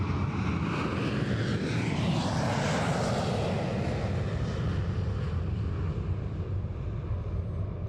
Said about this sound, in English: Starting his takeoff run. This is the new generation multi-mission aircraft